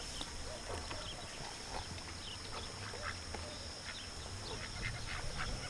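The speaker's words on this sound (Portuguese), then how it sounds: "Esses patos aí na minha frente" Ducks on a lagoon during a cast-net fishing outing give scattered quacks and honks at a distance, over a constant hiss of outdoor ambience.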